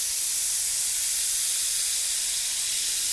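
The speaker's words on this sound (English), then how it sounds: "we're going to use the zest of the orange, but just to deglaze the pan a little bit" A hot pan deglazed with orange, giving a continuous loud steamy hiss and sizzle that holds evenly throughout, close and with no talking.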